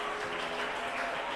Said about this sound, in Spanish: démosle un aplauso de alabanza al Cristo de la gloria